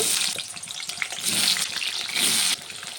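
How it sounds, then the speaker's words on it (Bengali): Potato pieces frying in oil left over from frying fish, a dense watery sizzle that swells and eases, loud and close with no voices. "আলুটাকে সুন্দর করে ভেজে নেব।"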